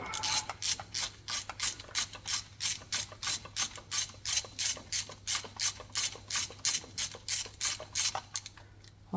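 A ratchet with a 10 mm socket clicks rapidly and steadily while undoing a bolt during a cambelt change on a 2019 Skoda, with close, crisp, evenly paced bursts and no talking.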